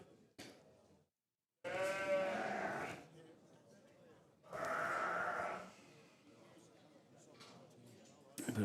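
Poll Dorset sheep at a show give two loud, wavering bleats a few seconds apart, with quieter background noise and faint talk between them.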